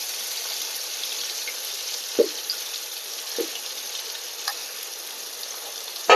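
Bitter gourd masala frying in a pan, a steady bright sizzle of hot oil that runs throughout, broken by a few soft clicks and taps.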